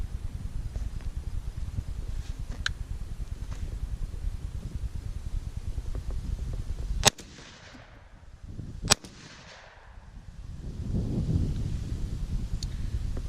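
A Beretta A300 Outlander shotgun fires cheap Winchester 7.5 shot loads at an outdoor range: two sharp, loud reports about two seconds apart over steady wind noise, with the second shot followed by quieter handling.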